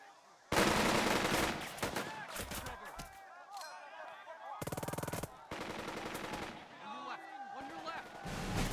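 Gunfire from the Burden of Command video game, with machine gun bursts, rifle shots and artillery booms crackling in dense volleys alongside shouted voice lines, loud and continuous.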